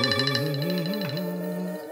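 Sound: phone ringtone, incoming call

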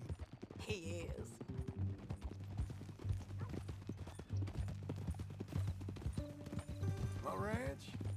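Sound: horse hooves clip-clopping

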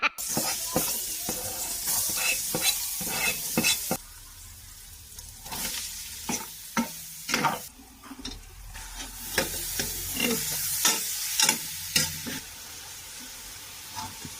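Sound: sautéing ingredients in a cooking pot on a stove

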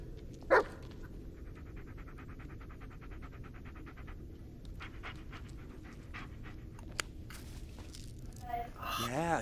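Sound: dog barking and whimpering, from video game Blair Witch

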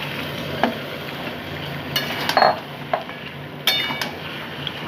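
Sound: chicken pieces added to frying onion spice masala

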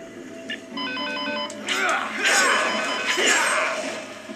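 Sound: telephone ringing in the video game Dead Rising 2

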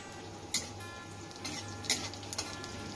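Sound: bay leaf, cumin and dried chili sizzling in oil

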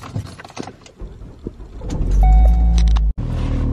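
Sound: car making an odd sound while driving

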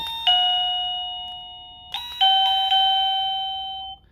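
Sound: wireless doorbell chime melody

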